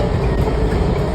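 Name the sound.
Washington Metro train moving through a tunnel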